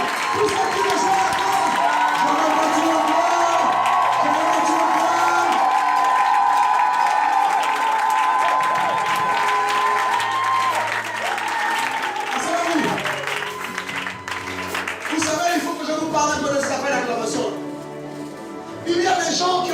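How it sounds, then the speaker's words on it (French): Congregation at a prayer rally cheering and clapping loudly, a sustained roar of crowd noise with voices rising and a sung or chanted tone underneath, continuing for about twenty seconds before thinning out. "Je veux que tu acclames, tu acclames, tu acclames."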